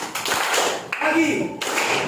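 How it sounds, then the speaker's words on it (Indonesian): Students in a classroom clap on cue, a few short scattered taps and claps close by, overlapping with a teacher's voice. "ketika Bapak ucapkan pagi, maka kamu harus tepuk tangan sekali"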